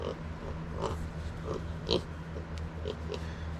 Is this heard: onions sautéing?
no